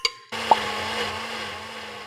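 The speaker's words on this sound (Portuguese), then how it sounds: "Vou ter que improvisar, vai no liquidificador mesmo." After a click, a blender's steady whirring motor hum starts and runs continuously while making homemade ketchup, with a faint clink near the start; moderately quiet.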